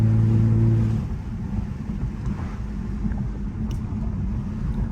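A BMW F80 M3 engine drones and accelerates during a canyon drive, a low steady rumble heard from inside the car with a brief higher tone at the start.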